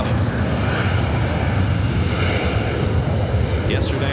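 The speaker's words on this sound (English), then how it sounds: "the Lufthansa Queen heading back to Frankfurt, about to take off there on the south side" A Lufthansa Boeing 747 takes off from runway 25 left on the south side at LAX, bound for Frankfurt, its engines a steady, loud, broadband roar with no break across the whole stretch.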